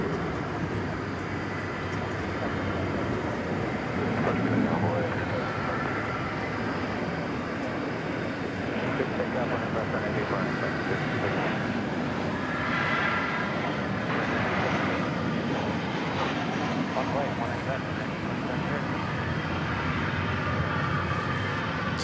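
An American Airlines Boeing 737-800 arriving at DFW Airport after dark produces a steady, distant jet roar that holds evenly throughout, faint and broad with no voices over it.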